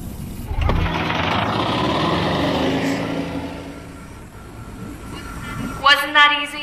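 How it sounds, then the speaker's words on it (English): An engine starts up and holds a steady mechanical rumble in the video game I Expect You To Die, with a voice talking over it and a brief electronic tone near the end. "The engine is engaged and we are starting our ascent."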